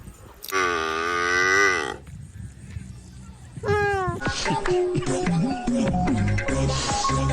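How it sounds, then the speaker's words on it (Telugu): A young cow moos twice close by, first a long drawn-out call, then a shorter rising one, amid background music and noise. "ఇదిగోండి మా దూడ"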